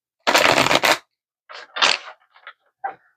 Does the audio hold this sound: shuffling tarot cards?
yes